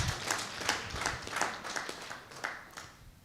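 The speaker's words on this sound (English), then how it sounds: "A special hand clap for all our facilitators, please." Participants at a hotel training session in Mbarara give their facilitators a round of hand clapping, rhythmic bursts of claps that swell and fade over a few seconds, nearby and with no talk.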